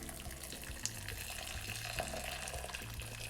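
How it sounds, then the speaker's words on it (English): Water poured off a pot of blanched kale and spinach, a steady close splashing stream into a sink with small gurgles, continuous and fairly quiet with no talking. "I'll get rid of some of the water."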